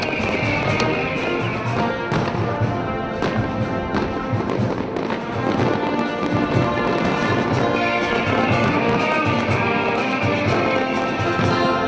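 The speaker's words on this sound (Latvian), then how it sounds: "Salūtu Latvijas Republikas proklamēšanas gada dienā pilsētas iedzīvotājiem un viesiem jau 17. gadu pēc kārtas dāvina Jelgavas uzņēmēji" A fireworks salute for Latvian Proclamation Day in Jelgava, with dense, continuous crackling bursts and pops filling the air, loud and sustained, with no talk.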